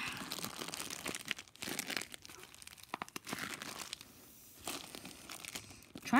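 Close crinkling and tearing of plastic toy packaging, opened by hand without scissors, in irregular bursts with short pauses between pulls.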